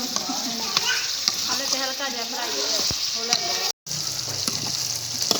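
Chicken neck meat fries in hot oil in a village kitchen, a steady close sizzle with stirring clatter, while someone talks over it.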